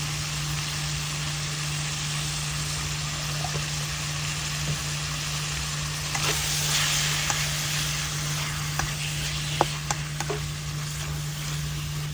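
Pork with pepper frying in a pan, with a steady broadband sizzle alongside a constant low hum and a few sharp clicks and crackles toward the end.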